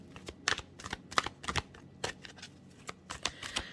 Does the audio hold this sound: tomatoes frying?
no